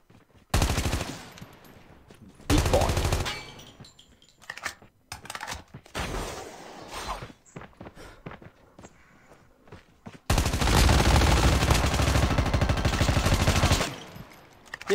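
Bursts of automatic gunfire from the mobile shooter game Call of Duty Mobile, loud rapid strings of shots broken by quieter gaps with lighter clicks and thuds, ending in a long sustained volley.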